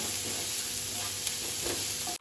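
A spoon stirs spices through hot oil in a pan while poha is being made, giving a steady soft sizzle with light scraping that runs throughout, close up, with no talking.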